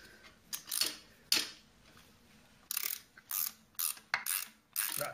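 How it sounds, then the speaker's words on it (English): A ratchet spanner tightens bolts on a Mk3 Cortina classic car under restoration, giving short, faint bursts of clicking pawl ratcheting separated by quiet gaps. "Ratchet spanner, just out of your view."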